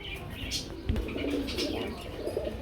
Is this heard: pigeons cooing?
yes